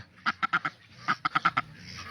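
Farm ducks quacking nearby in short clustered bursts, two quick volleys of four or five loud nasal quacks separated by a brief pause, with faint rustling in the background.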